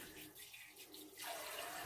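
Warm water running from a bathroom faucet, a quiet stream that swells louder partway through as the flow changes.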